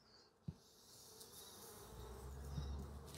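Honeybees buzz in a low, steady drone around a hive frame during a beekeeper's inspection, faint and continuous, with a couple of soft handling knocks.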